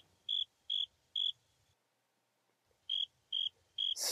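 A grasshopper in the video game Minecraft chirps in two groups of three evenly spaced bright tones, separated by a short silence, clear and close, with a burst of noise at the end.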